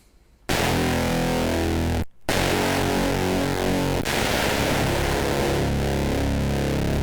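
A guitar played through a Quad Comparator synth module, set to its narrowest pulse wave, blares as a thick, buzzy, distorted tone that cuts out briefly and then sustains loudly without any talking.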